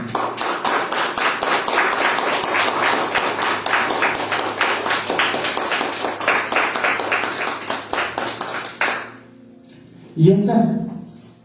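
During a Sunday church service, a congregation claps in a rhythmic, lively burst of many hands for several seconds, then it fades and a voice rises briefly afterward.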